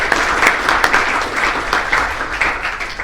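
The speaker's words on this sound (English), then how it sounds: "So just a big round of applause for Andy" An audience applauds at a movement competency conference, steady dense clapping at close range filling the whole stretch without a break.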